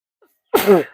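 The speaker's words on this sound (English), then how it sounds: "sorry, I'm going to sneeze" A single sharp sneeze bursts out close to the microphone after a moment of near silence.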